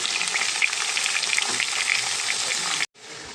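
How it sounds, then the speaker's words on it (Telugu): Carrot pieces sizzle and crackle loudly in a hot pan, a bright continuous hiss that drops out abruptly near the end, then resumes more quietly. "ఇప్పుడు దీంట్లో మనం కట్ చేసుకున్న క్యారెట్ ముక్కలు కూడా వేసేసుకుందాం"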